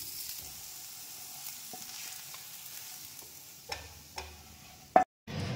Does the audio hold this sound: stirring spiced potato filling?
yes